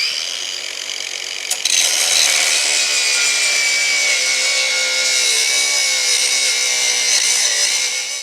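Sheet steel for a trailer shower mount being cut by a power tool, a loud, continuous, high-pitched grinding screech that starts with a brief bump and holds steady throughout.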